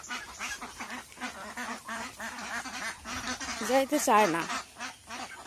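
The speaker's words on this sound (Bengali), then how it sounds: "হাঁসগুলোকে আবার জলে নামিয়ে দিতেছি," Domestic ducks quack repeatedly close by as they are herded back toward the water on a rainy day, the calls rising into a louder burst near the end, while someone talks over them.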